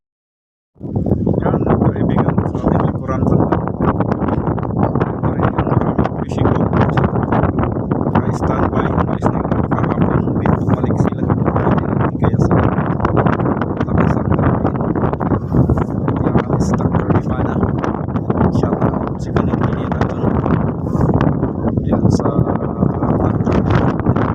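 Strong southwest monsoon wind and waves at Navotas Fish Port roar loudly and continuously, a dense, steady rushing that fills the whole clip without a break.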